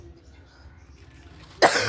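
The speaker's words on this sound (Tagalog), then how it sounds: "umubo ko eh" A single sharp cough bursts out near the end after quiet kitchen background, close to the microphone.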